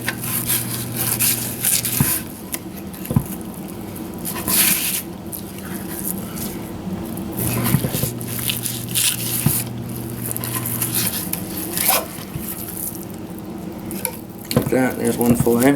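Flexible fillet knife slicing along a freshwater fish on a hard surface, with soft wet scraping and squishing strokes, occasional sharp taps and clinks against the board, and a voice talking throughout.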